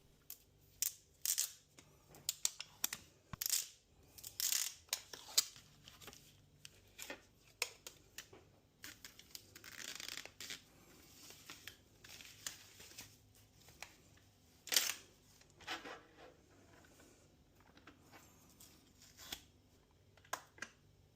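Protective plastic tabs being peeled off a new SwitchBot S10 robot vacuum and mop: a scattered series of quiet, crisp ripping and crinkling bursts spread over the clip with short pauses between them, no voices.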